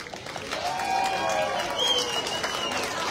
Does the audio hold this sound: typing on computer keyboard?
no